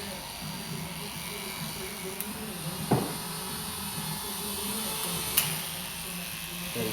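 Electric hair clippers with a 3 1/2 blade run continuously while cutting hair for a mohawk fade, a steady close buzzing drone with a couple of brief clicks and a voice talking over it.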